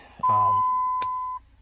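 A steady electronic beep tone holds for about a second, with a brief click partway through and some low background noise before it.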